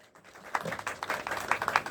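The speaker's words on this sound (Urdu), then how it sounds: "ان کے لیے بھی ضرور تالی بجا دیجیے" An audience at a Saeban Foundation vote-of-thanks gathering starts clapping for the assistant secretary, a quiet start swelling within half a second into steady, moderately close applause of many hands.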